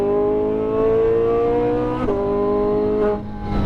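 A sports car on a race track holds a loud, close engine drone under maintenance throttle, then the pitch climbs steadily as the driver squeezes on, with a brief shift-like dip before tailing off.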